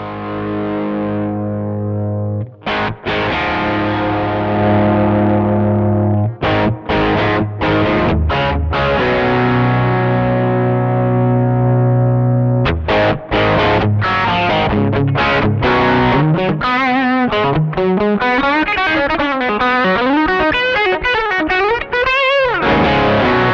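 Electric guitar played through an AC Tone pedal with the speaker simulation switched off, giving a loud, distorted direct tone: sustained chords ring out between sharp strums, then a busy run of fast picked notes and bends closes it out.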